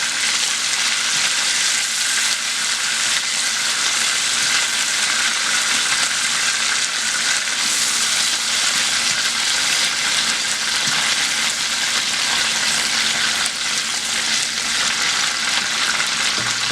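Blackened garlic salmon just flipped in a hot pan, giving a loud, continuous, even sizzle that holds steady from start to finish.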